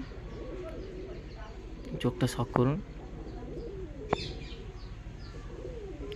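A female pigeon coos in a brief low burst, fairly close, among a low background murmur, while a person speaks over it.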